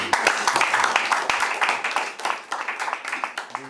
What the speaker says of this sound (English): can we just give a round of applause to this person that I want to mention?